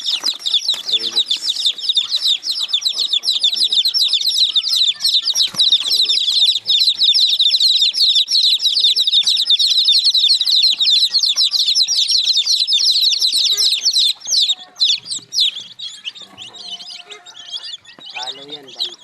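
Bantam and Texas breed hens clucking among their chicks, a dense, continuous chorus of high peeping and chirping with clucks beneath it, steady and close for most of the stretch before thinning out near the end.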